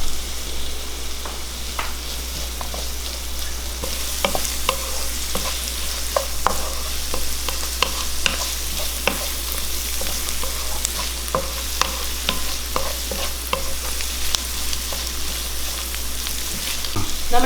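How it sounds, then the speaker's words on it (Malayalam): Crushed ginger and garlic fry with onion and green chilies in a pan, sizzling steadily while a spoon scrapes and stirs in frequent close strokes. "അതിലേക്ക് ഞാൻ ചതച്ച ജിഞ്ചർ വെളുത്തുള്ളിയും ഇഞ്ചിയും ചതച്ചെടുത്താണ് അതിലേക്ക് ചേർത്താണ്"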